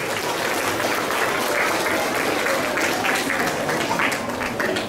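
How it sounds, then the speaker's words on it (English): A crowd applauds graduating children at a Balavihar graduation ceremony, steady dense clapping sustained at an even level for the whole stretch. "Please give them a big round of applause."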